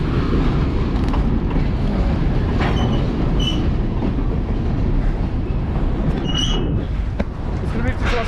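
A freight train rolls past close by on a rail line, a steady loud rumble with rail clatter and faint high wheel squeals that run through the whole stretch, while voices talk over it.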